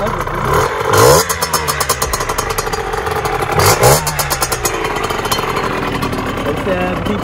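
A Beta RR 50cc two-stroke motorcycle engine with its factory exhaust revs repeatedly, rising and falling in pitch with a buzzy, metallic rasp and a fast pulsing idle between revs, loud and close, with someone speaking over it.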